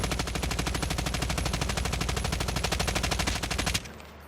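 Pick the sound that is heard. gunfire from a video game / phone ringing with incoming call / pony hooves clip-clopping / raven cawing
gunfire from a video game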